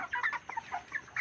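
Broiler chickens on a poultry farm clucking in a close, steady run of short calls, with no talk.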